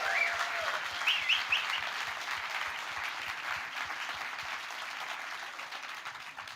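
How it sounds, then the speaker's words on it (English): Sustained applause from an audience at the Nordic Happiness Summit, a dense, even wash of clapping heard at moderate distance in a hall, with a faint voice briefly near the start. "let's give a big round of applause for all the volunteers, students that have been making this event possible"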